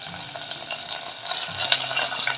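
Mustard seeds, dried red chillies and green chillies crackle in hot tempering oil, a steady close sizzle with a faint low hum underneath.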